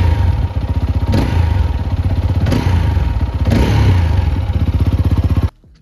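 A TVS Apache RTR 200 4V motorcycle engine revs hard and close up, its throttle blipped in quick bursts over a steady, rattling idle for about five seconds before cutting off abruptly.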